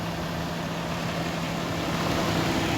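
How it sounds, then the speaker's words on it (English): A truck engine idles loudly in the street, a steady low rumble with a constant hum that holds level throughout, no voices over it. "forgive the you know, the loudness of the truck"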